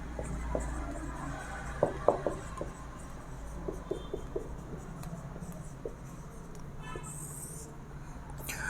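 Handwriting during a math lesson, pen or chalk scratching in short strokes with faint taps, heard close against a steady low background hum.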